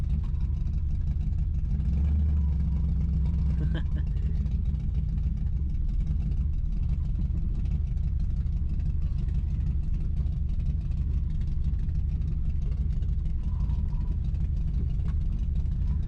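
A 1966 Ford Mustang engine rumbles steadily while driving downhill, a continuous low drone with a brief swell near the start and otherwise even, close-up engine and road noise.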